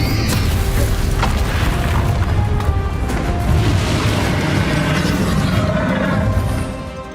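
A Bombarda spell explodes in a Hogwarts Legacy dragon boss fight, setting off a loud roaring blast that rumbles on densely for several seconds before tapering away.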